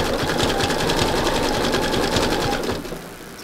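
A sewing machine fitted with a heavy size 14 jeans needle stitches through fabric-wrapped rope, producing a steady close, loud, rhythmic whir with rapid needle thumps that trails off near the end.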